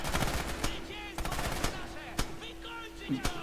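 Sharp bursts of gunfire in the video game Red Orchestra 2: Heroes of Stalingrad crack out repeatedly, single shots and short volleys scattered irregularly, loud and close, with a steady hum beneath.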